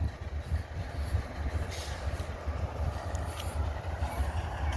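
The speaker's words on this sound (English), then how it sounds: "BNSF locomotives visiting Abbeville. It's on the piggyback train. Double stack containers." BNSF locomotives hauling a double-stack container train past the Abbeville, South Carolina depot, a steady low rumble and rolling drone, fairly loud and continuous throughout with no voices.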